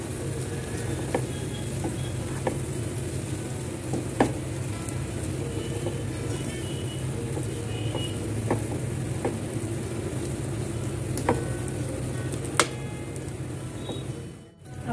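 Chana kabab mixture of chickpeas cooking in a pan, a steady close sizzle with occasional sharp ticks and scrapes from stirring, continuous without talking until a brief dip at the end.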